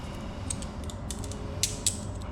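A screw being fitted on a fender eliminator for a 2023 KTM 690 SMC R motorcycle gives faint mechanical creaks and a couple of small ratchet-like clicks over a quiet background hum.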